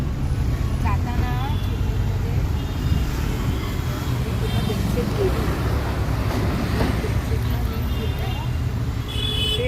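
A car drives along a road, heard from inside as a constant low engine and tyre rumble with faint passing traffic and occasional voices underneath.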